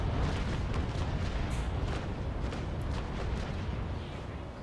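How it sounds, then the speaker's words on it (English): A broadside from the bottom-deck cannons of a second-rate sailing warship in the naval combat game Naval Action, heard as a continuous, loud, rumbling roar of overlapping booms that fades only slightly toward the end. "Okay, bottom decks, fire!"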